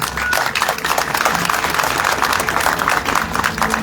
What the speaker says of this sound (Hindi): अगर नाटक अच्छा लगा हो तो एक बार ताली